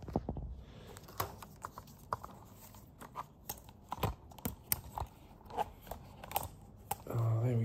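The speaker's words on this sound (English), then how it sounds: "So, we're going to fold out this one as well." The arms of a DJI Mavic 3 drone are unfolded by hand, producing a series of small plastic clicks and taps at an irregular rhythm, close and fairly quiet, with brief handling rustle at the end.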